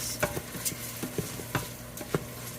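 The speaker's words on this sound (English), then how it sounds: "we are just going to cook this a little bit in the butter and just let it brown up a little bit" Rinsed rice stirred in melted butter in a pan, browning, with a soft steady sizzle under a few scraping stirs of a utensil against the pan, close and alone.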